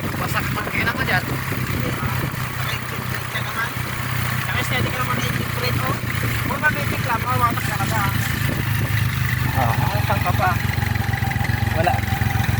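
A Rusi motorcycle engine strains on a rough road, a steady low drone running continuously under wind and road noise, close and fairly loud throughout.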